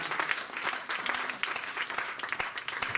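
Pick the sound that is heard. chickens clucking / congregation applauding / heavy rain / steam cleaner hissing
congregation applauding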